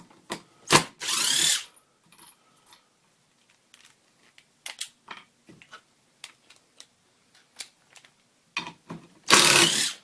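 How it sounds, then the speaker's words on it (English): A Hitachi WH10DL 10.8V cordless impact driver whirs in short bursts while driving a screw, with a long buzzing run at the start and end and scattered clicks and taps between. "It takes the power off of the speed and it brings it to the impact"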